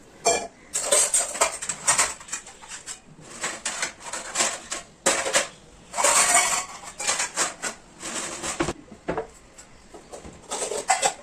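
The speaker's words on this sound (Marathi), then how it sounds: "मी रात्री घासलेली भांडी सर्व मांडून घेते" Washed pots, dishes and steel utensils are set out in a home kitchen in the morning, giving a busy run of close clinks, clatters and metallic knocks in irregular bursts. Nobody speaks.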